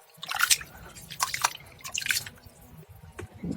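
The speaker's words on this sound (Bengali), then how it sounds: "তো এখন আমি মাছগুলো ভালো করে ধুয়ে নেব।" Fish being washed by hand in water, with wet splashes, drips and squishy handling in uneven bursts, close and fairly quiet.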